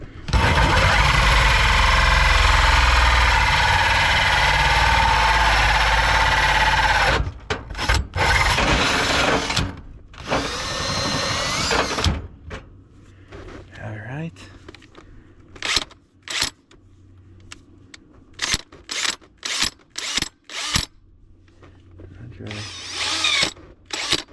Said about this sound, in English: now we'll drill through the rest, trying to keep it straight as we can.